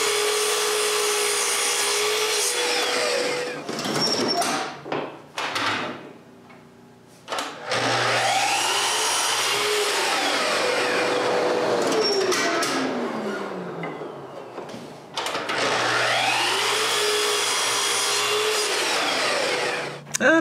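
A power saw in a woodworking shop cuts through a wooden box in several long passes, each a loud whining roar of blade through wood separated by brief pauses as the cut is repositioned.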